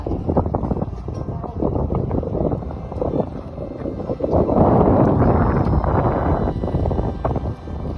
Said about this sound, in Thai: ได้ยินเสียงลมกันไหมคะ